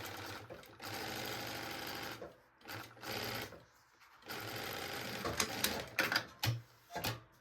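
A sewing machine stitches a small pocket onto a baby backpack in quick motorised bursts, separated by short pauses and a few clicks and knocks at the end, close and clear with no talking.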